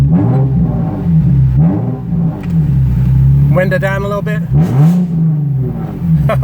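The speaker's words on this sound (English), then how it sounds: "Let me give it a couple more revs so you can hear what it sounds like on the inside" A Nissan 370Z sports car engine revs repeatedly from inside the cabin, deep rumbling swells rising and falling, with someone speaking briefly over it.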